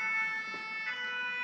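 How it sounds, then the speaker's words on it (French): A fire engine siren wails steadily outside in Clermont-Ferrand, heard faint and distant through an open window, a sustained tonal whine with no speech. "les pompiers sont sortis de nouveau,"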